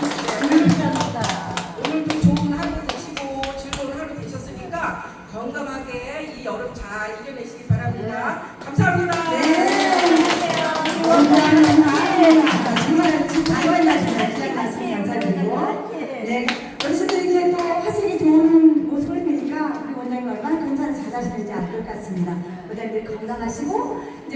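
An audience claps at a folk arts troupe performance at a day care center, warm applause rising and falling over several seconds while a host speaks over it.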